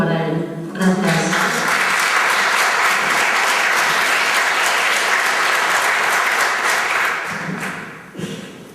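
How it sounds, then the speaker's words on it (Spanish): An audience applauds a performer at a film festival gala, loud dense clapping that swells in quickly and holds steady for several seconds before tapering off, with a thump near the end. "Un aplauso para él."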